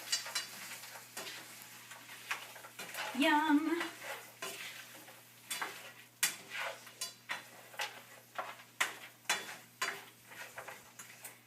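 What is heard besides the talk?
broccoli and peppers sizzling in a stir-fry pan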